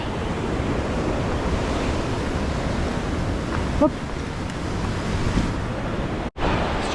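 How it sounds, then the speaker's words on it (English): A waterfall along a rough hillside path on the NC500 route in Scotland gives a constant, broad rushing roar with a brief spoken word over it. "Let's just stop a second and look at some more of that waterfall there."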